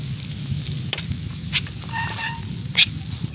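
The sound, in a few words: sauce sizzling in a pan while cooking Thai rice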